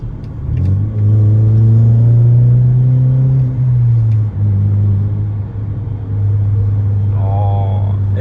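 A BMW E93 with a newly fitted exhaust pulls hard from inside the cabin, its deep engine drone rising and settling in a sustained, loud rumble with a brief dip midway.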